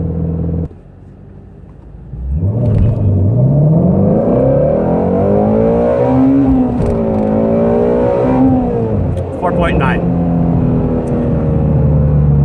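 A Ford Mustang GT350's V8 roars through a hard launch, climbing loud and close through rising revs, briefly easing, then pulling again through a gear change before settling into a sustained high drone.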